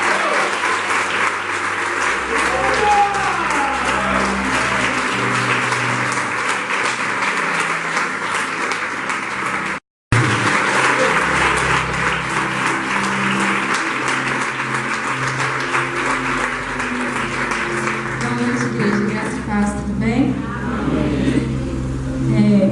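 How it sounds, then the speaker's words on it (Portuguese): A church congregation at a Portuguese-language worship service applauds loudly and steadily, a dense, sustained wash of clapping that continues almost throughout with only a momentary break. "Aplauda o Senhor"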